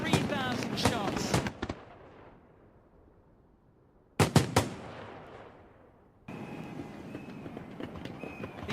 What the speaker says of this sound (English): which is a very old-fashioned, very traditional form of fireworks.